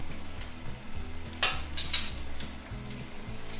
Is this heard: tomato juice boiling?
yes